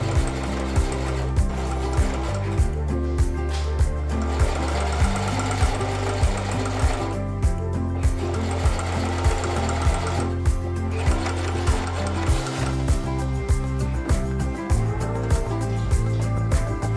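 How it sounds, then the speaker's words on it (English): A beginner sewing machine stitches in repeated rapid mechanical bursts, pausing briefly between runs, loud and close. "I like to have a sewing machine on hand just for little projects like this"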